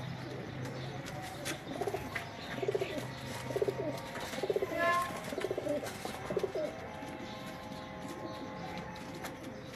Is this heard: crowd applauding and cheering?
no